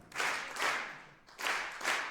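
A lecture audience clapping in rhythm, dense bursts of many hands landing together on a slow, even beat, about four claps heard close and clear.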